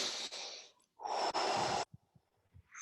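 A person in a breathwork exercise takes deep breaths, two long, loud, rushing inhales close to the mic, then softer short puffs and a faint start of another breath.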